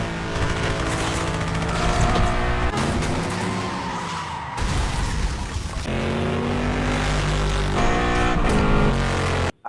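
Gunfire crackles through a car chase scene in the action film The Expendables, loud and dense over roaring engines and skidding tires, with sharp bursts and impacts throughout.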